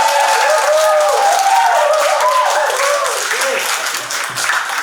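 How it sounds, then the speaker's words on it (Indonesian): A group gathered at an Indonesian placement ceremony claps together in loud, continuous applause, with voices calling and talking over the clapping as it gradually eases off. "Selama beberapa waktu lamanya kita tepuk tangan dulu dong buat semua."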